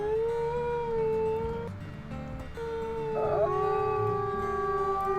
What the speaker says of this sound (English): I'll do one more howl to boost this.